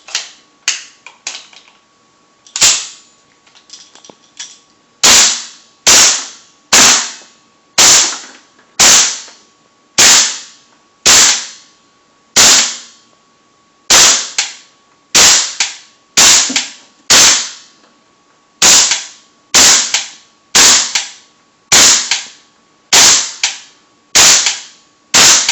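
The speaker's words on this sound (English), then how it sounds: "just to give you an idea of what it kind of sounds like, I'll do a quick firing" A custom WA M4A1 gas blowback airsoft rifle with a 14.5-inch barrel firing about twenty-two rounds, each a sharp, loud crack, spaced in a fairly regular semi-automatic rhythm with short pauses, close by.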